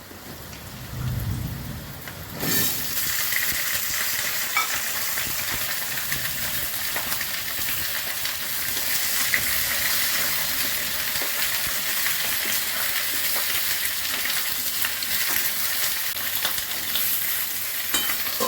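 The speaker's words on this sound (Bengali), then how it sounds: "এবার আমি পটলগুলো দেবো, একই সঙ্গে ভাজবো।" Potatoes and pointed gourd frying together in a pan in a home kitchen, a steady loud sizzle and crackle that starts abruptly and continues evenly throughout with no talking.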